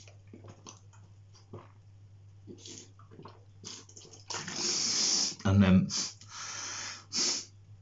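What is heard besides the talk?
sniffing saline nasal rinse up one nostril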